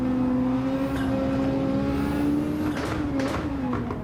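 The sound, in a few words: race cars overtaking in the video game Gran Turismo 7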